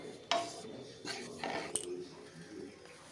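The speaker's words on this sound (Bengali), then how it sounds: "ভালো করে নাড়াচাড়া করে ভেজে নেব" Sattu flour being stirred and dry-fried in a pan over a low gas flame: a few scraping, rubbing strokes of a spoon against the pan, irregular and close, with faint room noise between them.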